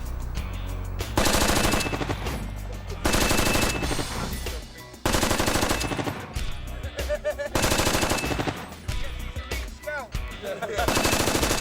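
Bursts of rapid, heavy automatic gunfire from a chain gun firing blank rounds, loud and close, with brief pauses between long rattling volleys.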